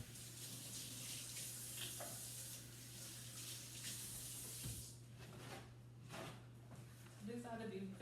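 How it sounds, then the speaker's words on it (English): Tap water runs steadily while hands are washed at a kitchen sink during brioche baking, with a constant low hum underneath and brief clatters and talk near the end. "We wash my hands again, just to make sure."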